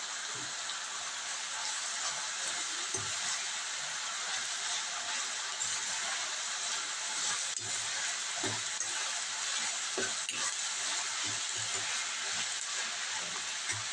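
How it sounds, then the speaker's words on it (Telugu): Ginger garlic paste sizzling in hot oil in a curry pan, a steady close hiss of frying with scattered pops and crackles running throughout, with no one talking. "ఇప్పుడు అల్లం వెల్లుల్లి పేస్ట్ కూడా వేస్తాను"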